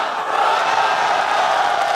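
Large crowd roaring and cheering at a Filipino rap battle, a sustained loud wash of voices with no breaks.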